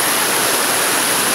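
Waterfall at Cascada de Vega del Sol, a loud, dense, continuous roar of falling water heard close up, with no gaps and no voices.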